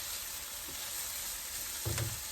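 Onion fries in a pan with a soft, steady sizzle, and a brief stirring scrape comes near the end.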